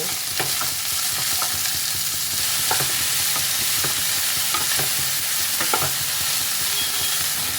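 Vegetables with salt fry in a pan, a steady close sizzle running throughout, broken by scraping clatter each time a spatula stirs them.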